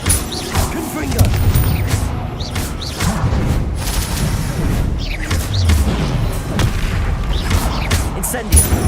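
Confringo explosive spells and other magic blasts erupt one after another in the Hogwarts Legacy video game, a busy stream of booms, crashes and swooshes with occasional spoken spell names.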